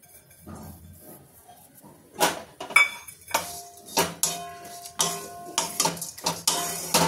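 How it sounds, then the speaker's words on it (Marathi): Dry coconut being roasted in a pan over a low gas flame, heard as a series of clinking, scraping stirring strokes against the pan that grow louder and more frequent toward the end, with no talking. "तर हे जे सुकं खोबरं आहे ते आपण भाजून घेऊ चांगलं"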